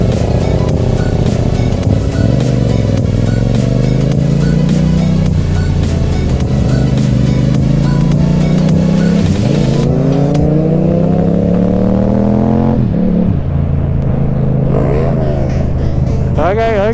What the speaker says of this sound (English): They revved, so I started revving